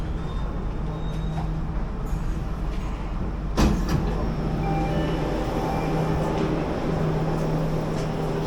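A Jakarta MRT train running from Blok M BCA toward Dukuh Atas, heard from inside as a steady rolling rumble with a brief clunk midway and quiet voices in the carriage.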